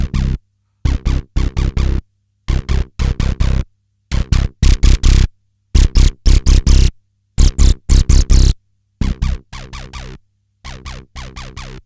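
Two Behringer TD-3 acid bass synths playing together in a loud, gated sequence of short buzzy notes, grouped in rhythmic clusters separated by brief silences, with the later notes turning more resonant.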